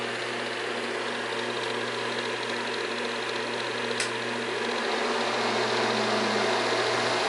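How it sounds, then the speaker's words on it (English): Angle grinder powered from a CNSWIPOWER power inverter runs with a steady, continuous motor whine and hum, a single brief click partway through, no voices. "We're going to try the grinder"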